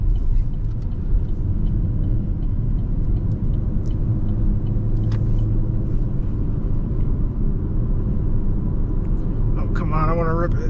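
A Chevrolet Camaro ZL1 with a Corsa catback exhaust cruises with a steady low engine drone and road rumble heard from inside, continuous and fairly loud, with a brief voice near the end.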